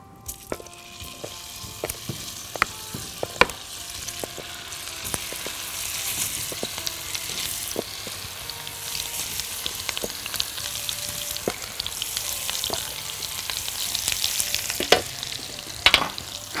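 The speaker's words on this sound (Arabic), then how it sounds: "ناخد كرات اللحمه بتاعتنا وهحطها في الطاسه هنا" Meatballs sizzling and frying in a pan, with a steady crackling hiss throughout, scattered sharp pops and occasional clinks of a utensil against the pan, fairly close with no talking.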